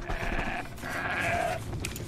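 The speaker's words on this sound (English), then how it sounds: "I don't know why I'm hearing a bunch of goats" Goats bleat in the video game Horizon Zero Dawn, two drawn-out wavering calls close by over a rumbling game background.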